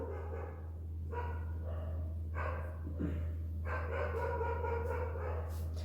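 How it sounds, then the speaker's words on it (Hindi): Several dogs barking at 3 a.m., distant and intermittent, the yaps coming in bursts over a steady low electrical hum. "रात के 3 बजे भी कुत्ते आराम से भौंक रहे हैं ना"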